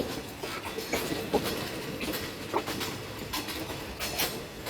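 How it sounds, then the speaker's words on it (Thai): A passenger train pulls into platform 8 at a Bangkok station, with rhythmic clickety-clack of wheels over rail joints on a steady rolling rumble, moderately close. "กรุงเทพจุดสำเร็จเข้ามาในชานชลาที่8 พร้อมที่จะทำขบวนพรุ่งนี้"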